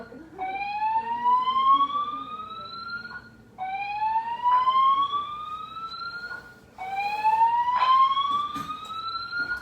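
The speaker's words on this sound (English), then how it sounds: "Sorry for the alarm." An electronic alarm in an apartment repeatedly sweeps upward in pitch, three long rising wails in a row, loud and close with short gaps between.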